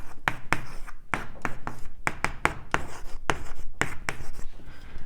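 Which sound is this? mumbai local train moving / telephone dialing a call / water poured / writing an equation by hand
writing an equation by hand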